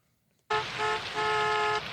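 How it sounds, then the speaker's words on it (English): Car horns blare in traffic, starting abruptly after a moment of quiet, a long loud honk that dips briefly and then carries on. "Why are they all honking?"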